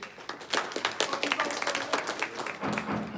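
A public meeting audience claps together in a burst of overlapping hand claps that swell and then fade, with a voice briefly heard near the end.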